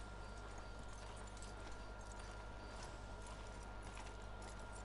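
Horse hooves clip-clop at a steady walking pace in the Red Dead Redemption 2 video game, continuous and even over a constant low hum of background ambience.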